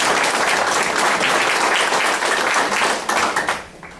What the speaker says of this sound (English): Let's give all our first responders a very warm round of applause